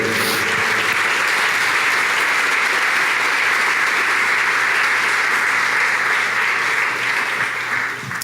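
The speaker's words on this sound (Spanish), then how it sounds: "Desen un fuerte aplauso, por favor, fuerte." Loud, sustained audience applause at a church gathering fills the whole stretch, steady and dense from start to finish, tapering slightly at the very end.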